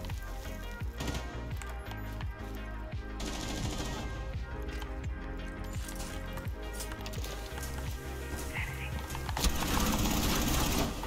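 Sniper rifle fire in the Rainbow Six Siege game, part of a dense mix of repeated gunshot cracks and game noise throughout, with bursts of automatic-sounding fire and a busier, louder stretch near the end.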